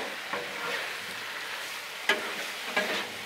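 Teriyaki sauce being stirred into chicken on a Blackstone flat-top griddle: continuous close sizzling with a few sharp spatula scrapes and clacks against the metal surface, no talking.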